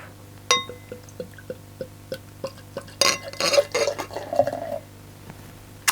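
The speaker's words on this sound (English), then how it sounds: "let's get the beer into ye olde glass" Irlbacher Premium Gäuboden Volksfestbier, a light Märzen, is poured from a bottle into a glass: scattered clinks and drips give way to a fizzing, splashing pour lasting a couple of seconds, with small taps of glass before and after.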